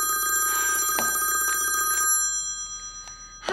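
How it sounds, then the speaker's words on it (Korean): A telephone rings in a film with a bright, steady electronic bell tone for about two seconds, then stops, leaving faint short echoes in a quiet room. "전화는 바로 에밀리였다."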